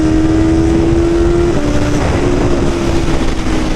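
A BMW motorcycle engine, an S1000R or M model, holds a loud, steady high-revving drone with a sustained tone that shifts slightly in pitch partway through, close up and without speech.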